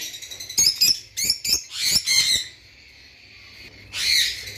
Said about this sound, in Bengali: এখানে রেড হেড অপালাইনের সাথে একটা ব্লু নন রিংয়ের লাভবার্ড রয়েছে।